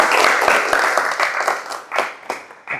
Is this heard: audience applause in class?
yes